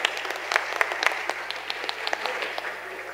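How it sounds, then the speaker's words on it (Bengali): An audience applauding dancers at a stage event, a steady patter of many hands clapping with a few louder individual claps standing out, moderately close. "অনেক জোরে একটা করা তালি দেওয়া হোক।"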